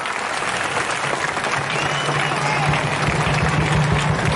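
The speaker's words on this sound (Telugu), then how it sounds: "వచ్చిన మీ అందరికీ ఒక్కసారి పేరు పేరున మీరందరూ కర్తాధ్వాలతో అభినందన తెలుపుతామని చెప్పి గట్టిగా చప్పట్లు కొట్టాలి" A large crowd applauding loudly and steadily at a Telangana public gathering, a dense wash of clapping that keeps going and swells slightly toward the end.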